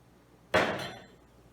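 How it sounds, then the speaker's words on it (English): A glass jar holding broken-down flower scraps is shut with one sharp clack of the lid, followed by a short fading ring in a quiet room. "Close your jar."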